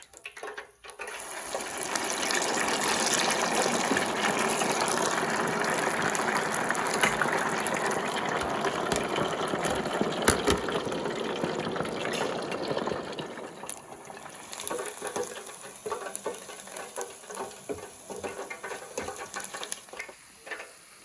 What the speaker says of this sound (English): We're ready to fry.